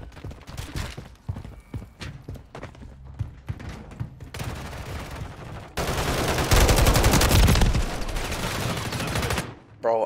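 Rapid gunfire bursts in the video game MW3, loud and dense, with scattered shots early on and then sustained automatic fire near the end.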